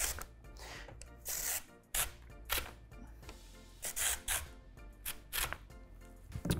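A knife slicing sweet potato into half-inch pieces, with a series of sharp, separate cuts in an irregular rhythm, close and fairly quiet, with no talking.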